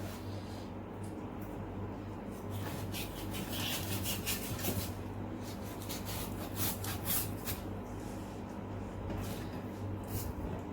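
A knife saws and scrapes through shark fish, a faint, steady rasping with bursts of harder strokes, close up and without talk.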